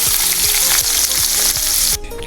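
Bitter gourd fries in a pan with a loud, dense sizzle and rhythmic stirring scrapes, the hiss dropping off abruptly near the end.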